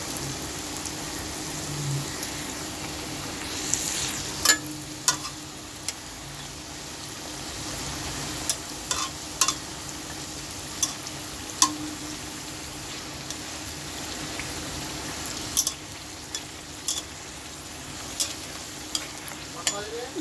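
Nimki, a crisp fried snack, frying in oil over low heat: a steady, soft bubbling sizzle with scattered sharp pops and crackles throughout, no voices.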